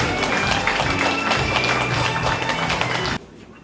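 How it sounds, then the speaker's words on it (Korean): Sustained, dense applause from an audience at an award ceremony honoring North Korean defector entrepreneurs. The clapping stays steady and loud, then cuts off abruptly near the end, leaving quiet room tone. "박수 부탁드립니다"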